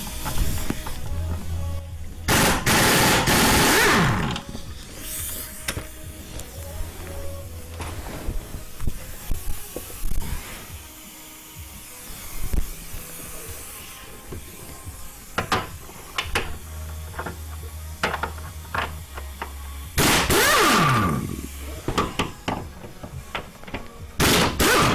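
A nut comes off the front suspension of a Subaru Outback during CV shaft and control arm work. Two loud, harsh hammering bursts frame a stretch of quieter clanks and hiss in a workshop, all close.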